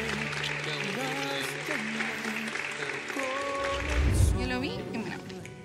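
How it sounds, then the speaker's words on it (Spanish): Wedding guests break into sustained applause, clapping steadily for several seconds under an officiant's voice calling out over the crowd and music. "todos un aplauso"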